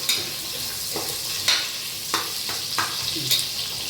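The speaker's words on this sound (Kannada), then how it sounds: "ಈರುಳ್ಳಿ ಚೆನ್ನಾಗಿ ಫ್ರೈ ಆಗಬೇಕು" Onions sizzle and fry in a pan, with a steady hiss broken by several sharp stirring scrapes, close and fairly loud, with no voices.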